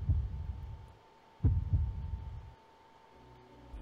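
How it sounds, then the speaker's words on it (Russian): Low, thudding heartbeat pulses used in a music performance, a cluster of deep throbs followed by a quieter trailing hum and a soft return at the end, with no voices. "Его сердцебиение?"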